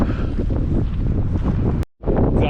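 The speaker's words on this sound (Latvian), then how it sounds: "jo te baigais vējš tiešām" Strong wind buffets the microphone outdoors in winter at a remote thermal pool site in Georgia, a loud continuous roar with a brief drop to near silence before it resumes.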